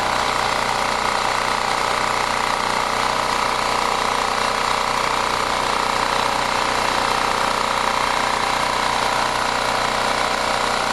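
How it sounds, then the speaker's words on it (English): A repaired generator engine runs loud and steady close by, a constant mechanical roar with a buzzing vibration that never lets up, with no voices over it. "So what I'm going to do is shut the generator down."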